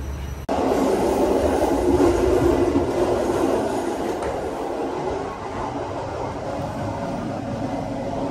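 An Intercity train at a station platform rumbles loudly and steadily close by, starting abruptly, with clacking wheels and a faint squeal running through the sustained roar; no voices.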